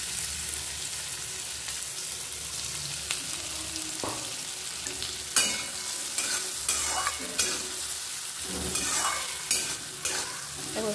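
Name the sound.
onion frying in oil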